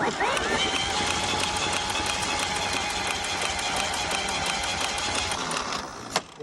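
A 1940 Chevy truck engine cranks on 24 volts with a rapid, steady mechanical chatter from the starter, nearby and fairly loud, ending in a sharp burst near the close.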